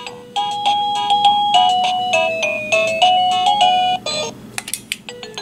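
A TUCCH wireless doorbell chime plays a bright, loud electronic melody of ringing tones while pairing, then ends with a few short, separate beeps. It is heard up close with no voices.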